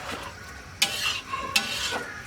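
A spoon stirs meat masala mixture in a pot, with water added, while cooking for a New Year picnic: two sharp scraping strokes against the pot over a low background sizzle, fairly close and clear.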